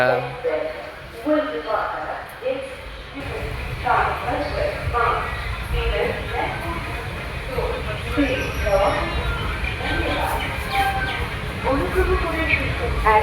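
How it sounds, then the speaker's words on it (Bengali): A train pulls out of a busy station, its low rumble and rattling wagons running underneath steady crowd chatter and people talking nearby. "ট্রেন ছাড়বে বললো 6:32-এ"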